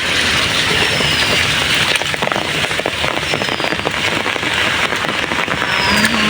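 Heavy rain from Cyclone Remal in Chattogram pours down steadily and loudly on surfaces nearby, a dense unbroken patter with scattered louder drops and no voices.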